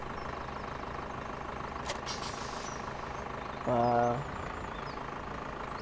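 A 75 horsepower tractor engine idles and labors steadily while pulling 21 full harvest trailers, a continuous mid-pitched drone with a short beeping tone partway through and a brief exclamation from a voice.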